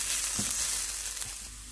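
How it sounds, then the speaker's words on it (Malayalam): Coriander, chili and Kashmiri chili powder masala sautéing in a pan for grilled fish, a steady close sizzle with a couple of soft stirring scrapes, no voices. "ഇനി നമുക്കിതെല്ലാം കൂടി നന്നായിട്ടൊന്ന് വഴറ്റി എടുക്കാം"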